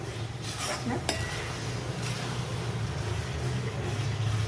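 Carrot halwa being stirred in a pan for a carrot halwa recipe, with a steady low scraping and clinking of utensil against the pan and a faint sizzle running throughout, close and moderately loud with no speech.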